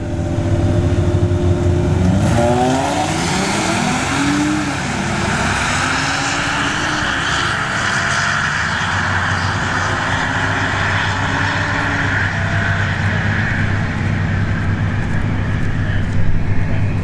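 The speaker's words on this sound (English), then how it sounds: "Genesis G70 here in the left lane, and the Tacoma work truck in the right lane" A Genesis G70 and a Toyota Tacoma work truck launch side by side down a drag strip at Bradenton Motorsports Park, engines loud and close, revving up and then fading into a sustained drone with no talking.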